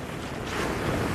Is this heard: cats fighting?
no